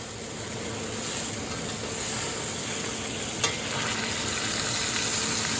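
A whole chicken browns in a Le Creuset pot, giving a steady, dense sizzle and crackle of frying that holds even and close for several seconds, with one brief click partway through and no talk.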